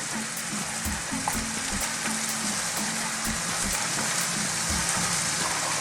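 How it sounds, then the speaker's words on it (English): Chopped onions hitting a pan of browning beef mince for a shepherd's or cottage pie, giving a steady, loud, dense sizzle with faint crackles throughout and no talking. "So next I'm going to go in with some onions."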